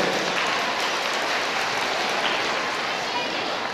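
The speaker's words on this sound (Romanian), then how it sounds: "pe care e bine să-i aplaudați" A large audience applauds children at a Women's Day stage show, a dense, even wash of clapping that holds steady throughout without pauses.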